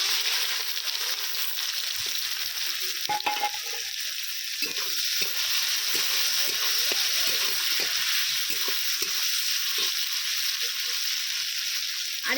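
Chopped onions frying in hot oil with whole garam masala spices and bay leaf for a potato chicken curry, a steady dense sizzle with scattered stirring scrapes and clinks, close and continuous without speech.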